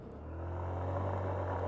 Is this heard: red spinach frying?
no